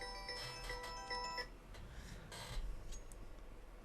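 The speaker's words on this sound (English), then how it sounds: "As I have a phone call in the background," A phone rings faintly in the background with a repeating electronic melody for about a second and a half, followed by quieter room noise and scattered clicks.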